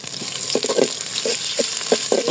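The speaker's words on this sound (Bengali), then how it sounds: "একটু ভেজে নেব। আদা রসুন পেস্ট দেওয়া হয়েছে।" Ginger-garlic paste fries with onion in a pan, giving a continuous close sizzle with short bursts of stirring scrapes.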